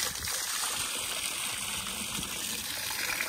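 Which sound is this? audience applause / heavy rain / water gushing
water gushing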